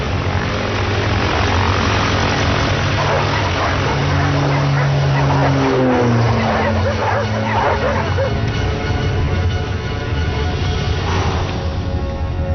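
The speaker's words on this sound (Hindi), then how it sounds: "ठीक है, अब हम उड़ान भरने वाले हैं।" A propeller airplane takes off with a loud, steady engine drone that fills the whole scene. Dogs bark and yip over the roar partway through, and voices are heard now and then.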